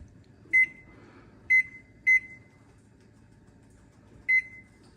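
A kitchen timer being set gives four short, sharp electronic beeps in an uneven pattern against a quiet background.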